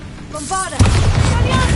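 A Bombarda explosion spell goes off in Hogwarts Legacy: one sudden loud boom with a broad rumbling blast that sustains, following a brief stretch of voiced sound.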